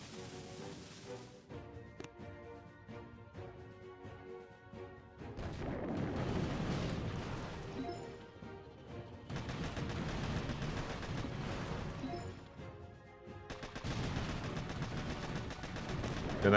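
Tanks and cannons fire during a Boom Beach battle: repeated sharp cracks and rattling bursts of game gunfire, with louder stretches of dense explosive booms and a short chiming tone, at moderate volume.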